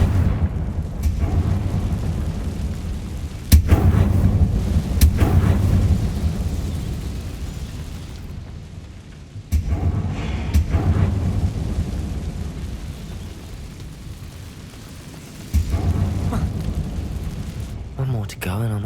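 Confringo spell explosions in the video game Hogwarts Legacy, several heavy booming blasts each followed by a long rumbling decay, loud and near, with rushing ambient noise between them.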